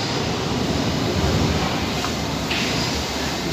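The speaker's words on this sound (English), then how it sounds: "Here's the train." A London Underground District line train rumbles into a platform, a loud, close, steady roar of wheels and motors with a brief higher whine near the end.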